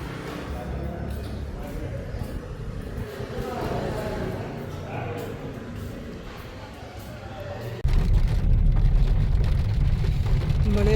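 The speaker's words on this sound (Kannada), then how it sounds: "ಮಳೆ ಬರ್ತಾ ಇದೆ, ಮಳೆ." Rain falls steadily while riding in a vehicle, a dense wash of patter mixed with low engine and road rumble that grows heavier and louder toward the end.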